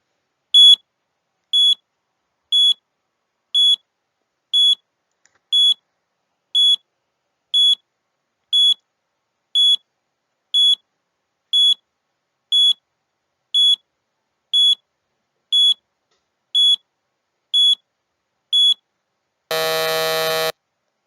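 A countdown timer gives about nineteen short, high electronic beeps at a steady pace of roughly one per second, clear and alone. A loud, harsh buzzer tone sounds at the end.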